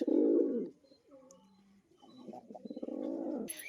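Pigeons cooing up close: a deep throaty coo, a pause with softer murmurs, then a longer rolling coo, with a brief rustle at the end.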